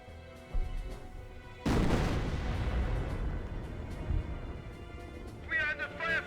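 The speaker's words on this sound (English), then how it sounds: "Yeah, that's the sector artillery." Sector artillery barrage in the Company of Heroes 1 game, a sudden loud boom followed by a long rumbling roll of impacts and debris, with game voices talking at the start and end.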